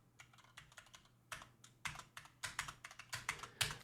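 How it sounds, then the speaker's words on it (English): Fingers type on a computer keyboard during a mail-server upgrade in a terminal, making a quiet, close run of irregular key clicks that speed into denser bursts, with no talk. "I hate typing sudo every time."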